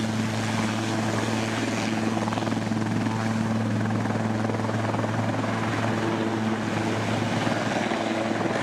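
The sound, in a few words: medical helicopter flying near power lines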